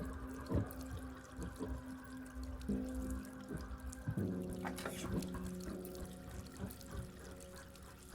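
A video game tap runs with a steady pour of water, trickling and splashing into a basin, with occasional soft clinks and a brief rise midway.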